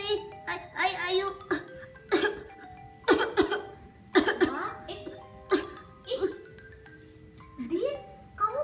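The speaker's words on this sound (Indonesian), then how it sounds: "kamu batuknya kok sembarangan sih?" A child coughs several times openly without covering up, in short sharp bursts mixed with children's chatter and brief laughter, up close and indoors.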